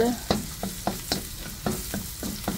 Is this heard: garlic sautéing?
yes